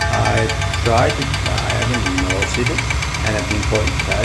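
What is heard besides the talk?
Ford F150 metallic grinding and rattling between engine and transmission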